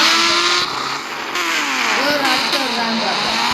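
A motorbike races toward a ramp in a video game, its engine revving and whining up and down at close range, while a person talks over it.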